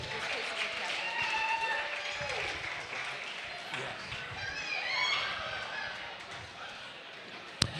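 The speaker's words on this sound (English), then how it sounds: "Round of applause for all the folks that bid today." A crowd at a charity auction claps steadily throughout, with cheering and voices mixed in, fading slightly toward the end before a sharp knock.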